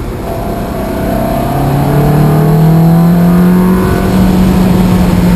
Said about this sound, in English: I'm driving a Ferrari.